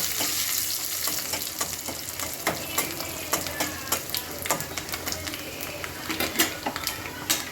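Onion with panch phoron and dried chillies frying in hot oil, a dense, loud sizzle laced with frequent sharp crackles and pops of the spices, close and continuous with no speech.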